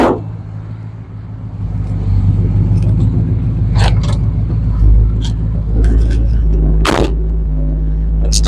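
A 1965 Chrysler 300, an unrestored, one-family-owned Arizona car, idling on a cold start: a steady, deep engine rumble holds throughout, with occasional clicks and a brief sharper noise near the end.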